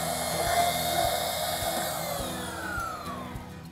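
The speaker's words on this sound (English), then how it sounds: "We just have this portable bandsaw that we're gonna do ours with. So we cut our steel shaft off. Now we'll cut our plastic shaft off." A portable bandsaw cuts through the plastic shaft of a PTO driveline, giving a steady high whining buzz close by with a dull motor hum beneath it and no talking.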